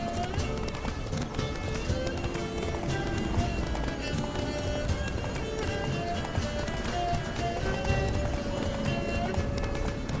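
Geralt's horse Roach galloping in The Witcher 3, with continuous rapid hoofbeats over music and game ambience, and a voice speaking briefly.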